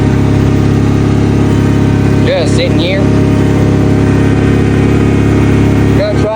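A Wheel Horse Commando 8 garden tractor engine idles steadily and loudly close by throughout, with someone talking briefly over it.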